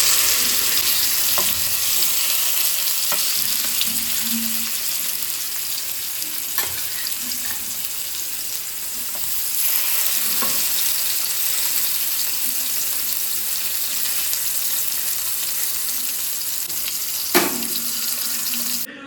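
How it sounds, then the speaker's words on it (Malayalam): Skinned chemballi fish frying in a pan with oil, giving a steady close hiss and crackle throughout, with a few soft clinks of utensils and no talking. "ഇതിലേക്ക് ഈ ഒരു മീനാണ് കേട്ടോ പൊരിക്കുന്നത്"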